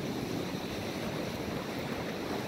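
Sea waves wash onto a white-sand beach with black rocks at Mui Hon Lan, Tan Thanh, heard as a steady, broad surf hiss with some wind noise and no talking.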